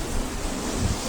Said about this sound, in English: there's a big gust of wind